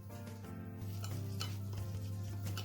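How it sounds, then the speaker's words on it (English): Pancake batter being stirred in a bowl, a steady, continuous scraping and swishing over a constant low hum, close and moderately loud, with no talking. "Now let me continue stirring."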